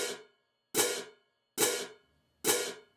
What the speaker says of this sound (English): I would use medium-sized cymbals, like these ones which are 18 inches in diameter.